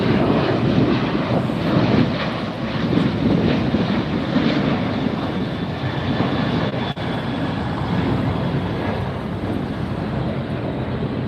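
Alaska Airlines airplane at LAX airport, its jet engines giving off a steady, loud broadband roar that holds throughout, with wind buffeting the microphone.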